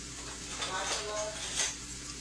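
A spoon stirring ingredients in a pot, giving soft scraping and clinking against the metal with a faint sizzle beneath, close and steady, with light speech in the background.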